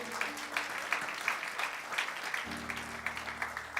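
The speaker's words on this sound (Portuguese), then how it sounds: "Eu quero um aplauso bem forte ao Senhor." A church congregation applauds during a family worship service, giving steady, moderately loud clapping with a sustained tone or music underneath.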